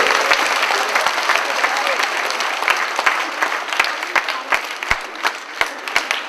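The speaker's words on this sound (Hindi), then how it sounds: "हम हमारे चंद्र टेंट हाउस के सभी भाइयों को हम धन्यवाद देंगे और जोर से ताली बजाएंगे।" Applause from an audience at a gathering, starting as a dense crowd clatter and thinning into scattered sharp individual claps, with faint talk underneath.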